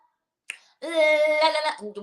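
One sharp finger snap cracks out of silence, followed after a short pause by a loud, sustained singing voice.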